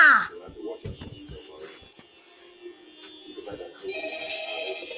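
A telephone rings in the horror video game Five Nights at Freddy's, a thin electronic ring under a player's loud, excited talking.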